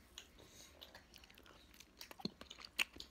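Soft, close chewing and biting of Häagen-Dazs white peach ice cream, quiet irregular mouth sounds with a few sharper crunchy clicks toward the end, no speech.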